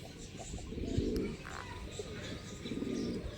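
Mixed pigeons in a loft, including Madrasi, high flyer, fancy and gola breeds, coo softly in low bursts around the middle and end, a steady murmur of birds filling the space with faint background noise.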